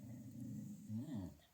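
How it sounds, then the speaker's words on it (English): Dogs growling and yipping nearby, with a couple of rising whimpery barks near the end; fairly quiet and continuous. "Oh, hold on, everybody's barking."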